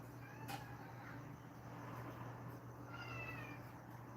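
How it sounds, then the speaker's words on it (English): A cat meows a few times in a room where painting is going on, faint calls rising over a steady low hum and room noise. "Can y'all hear the cat?"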